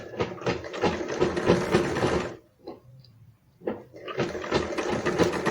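A sewing machine stitching fabric runs in two fast, rattling bursts with a short pause between them, mechanical and close, with no talk over it.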